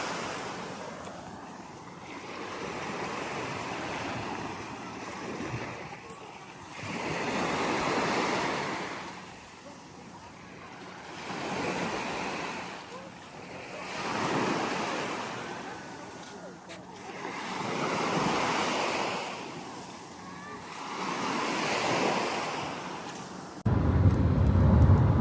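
Sea waves break on a shore near Burgas, rolling in as slow, broad surges about every four to five seconds, each swelling and fading again, with wind rushing over the microphone throughout.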